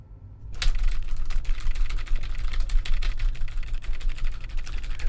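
Rapid keyboard typing in the video game The Stalked 3, dense continuous clatter of keystrokes starting after a brief silence and running steadily, close and fairly loud, with no talk over it.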